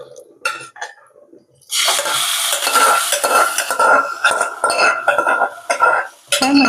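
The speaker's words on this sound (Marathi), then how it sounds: "सो आता आपल्याला यामध्ये घालायचं आहे गाजर." Grated carrots are stirred into a pan of crisp-fried dry fruits for gajar halwa, with scraping, clattering strokes and light sizzling that start after a quiet beginning and continue steadily.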